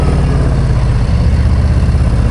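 Harley-Davidson Low Rider ST motorcycle with a 131 Screamin Eagle engine, a loud, deep, lumpy V-twin rumble that pulses steadily at close range with no voices.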